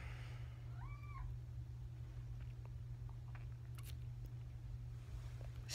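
A cat gives a short rising-falling meow near the start, fairly faint over a steady low background hum, followed by scattered light clicks and taps with no one talking.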